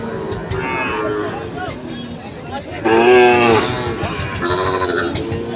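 Calves and cattle moo at a livestock market selling Sahiwal bulls and calves, several drawn-out low bellows, one loud and close in the middle, over a busy background of crowd voices.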